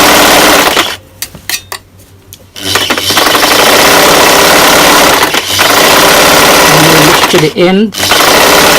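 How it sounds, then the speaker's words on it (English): A sewing machine stitches T-shirt fabric in steady loud whirring runs, broken by a few short pauses, while a voice speaks briefly near the end. "Keep stitching"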